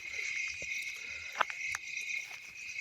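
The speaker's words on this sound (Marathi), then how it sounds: "रातकिड्यांचा आवाज चिरचिर आपल्याला येत असेल मित्रांनो" Crickets at night outside a dark village house chirp in a steady, high shrill drone, joined by a few faint clicks and taps.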